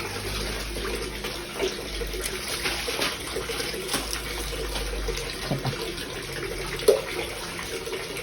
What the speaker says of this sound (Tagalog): Ito yung tubig.